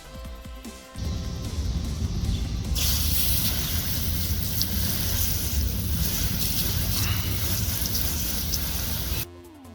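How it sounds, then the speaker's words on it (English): A garden hose sprays water over freshly cleaned GameCube console parts in a backyard, a steady loud broadband rush that starts abruptly, swells fuller after a few seconds, holds continuously and cuts off near the end. "I'm going to take it to the backyard and, hose them down with my hose."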